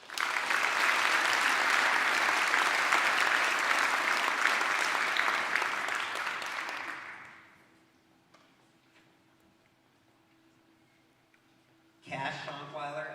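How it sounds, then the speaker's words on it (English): An audience at a student award ceremony breaks into sustained applause indoors that fades out after several seconds, followed by a quiet pause and then a speaker starting to talk. "Give them a round of applause."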